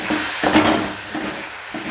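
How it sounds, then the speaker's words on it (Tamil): Garlic being sautéed in a pan for prawn thokku, a soft sizzle with a few brief scraping stirs of a spatula against the pan, close and moderate, with no voices. "நம்ம ஒரு வதக்கிக்கிறோம்."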